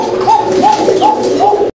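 Pigeons coo repeatedly at a fancy pigeon market, a series of soft rolling coos in a steady rhythm close by, with faint background noise and a brief cutoff at the end.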